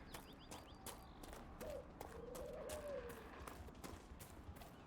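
Horse hooves clip-clop at a moderate distance in Dragon Age: Inquisition, a steady rhythm of soft hoof strikes over a busy game ambience with faint melodic tones.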